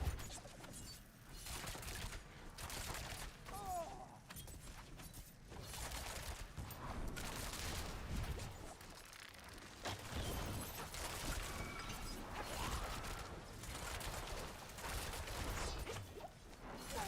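Rogue Rapid Fire skill attacks in Diablo 4 during a tanky boss fight, a dense, continuous barrage of whooshing shots and impact crashes mixed with mechanical clatter, busy and fairly quiet.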